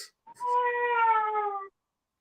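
A cat gives a single clear, drawn-out meow lasting over a second, close and moderately loud, and silence follows.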